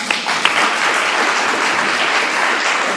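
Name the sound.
applause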